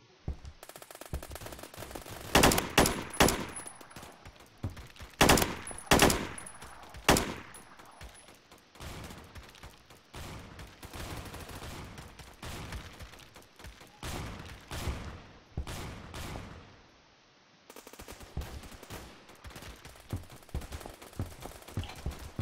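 Gunfire in a Roblox video game, several sharp bursts of automatic shots with pauses between them, some loud and close, others quieter and more distant, with no talk.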